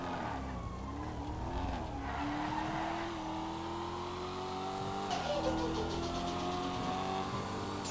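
A Caprice wagon with an LSX twin-turbo engine skids in GTA 5 during a police chase, its tires squealing in long sliding tones over a steady engine drone, with no talking.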